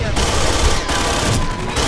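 Loud, sustained automatic gunfire in the Aliens Colonial Marines video game pours out in dense rapid bursts with only brief gaps, close and overpowering throughout.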